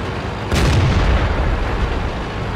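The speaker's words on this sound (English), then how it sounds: "Firing wildly on the move." A T-34-85 tank's main gun fires once in a tank video game, a single loud boom followed by a rumbling low tail over steady engine noise.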